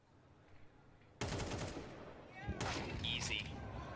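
Gunfire in a Counter-Strike match during a major tournament, a sudden loud burst of shots after a quiet start, followed by further cracks and game effects under a caster's voice.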